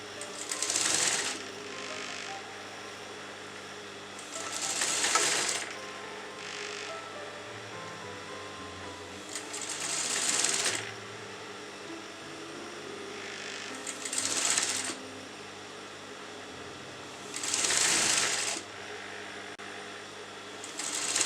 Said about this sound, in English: place it like this, and you're going to sew on the exact margin.